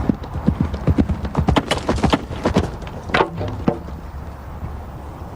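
A horse ridden at a gallop during a medieval lance charge test, its hooves drumming in a quick, close, loud rhythm that thins out toward the end.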